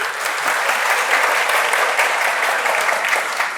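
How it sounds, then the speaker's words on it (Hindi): Warm audience applause welcoming a guest speaker at a lecture on the Bhagavad Gita, a dense, even roar of many hands clapping throughout at steady volume. "तो एक बार तालियां बजा दीजिए"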